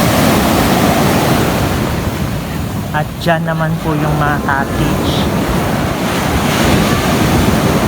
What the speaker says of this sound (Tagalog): Yung alon po, tingnan nyo po.